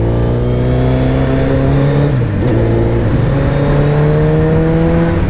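A motorbike engine revs loudly and close while being parked, a steady harmonic drone that dips briefly and climbs again, with no talk over it.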